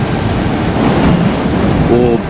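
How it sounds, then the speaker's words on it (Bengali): Strong seaside wind buffets the microphone in a loud, continuous roar, with surf rumbling underneath and a voice briefly audible near the end. "আরে হাওয়ায় না দাঁড়াতে অসুবিধা হচ্ছে।"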